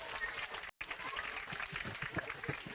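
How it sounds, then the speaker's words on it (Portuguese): A church congregation at an evangelical evening service applauding loudly, a thick continuous patter of many clapping hands that cuts out for a split second and then carries on. "Salva de palmas aí, bem forte."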